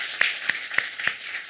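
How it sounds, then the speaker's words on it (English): Four sharp, evenly spaced claps close by, over a steady hiss of background applause from a small team audience at a final presentation. "maybe we can just give her a round of applause"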